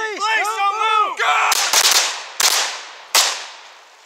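Gunshots fired during a police shooting range qualification drill follow shouted commands: four or five sharp, loud reports in an uneven sequence, each with a reverberant decay.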